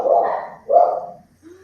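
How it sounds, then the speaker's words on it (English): Dogs bark twice in quick succession at close range, each bark loud and full, followed by a brief soft whine as things settle. "sorry about my dogs, guys."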